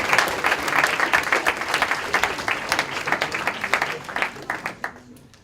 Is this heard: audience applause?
yes